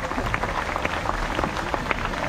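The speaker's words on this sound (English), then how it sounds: "Give him another big round of applause, everybody." Audience applause at a sea lion show at Pleasurewood Hills in Lowestoft, Suffolk: a steady crowd of many hands clapping in a dense, continuous patter throughout, moderately loud and outdoors-sounding.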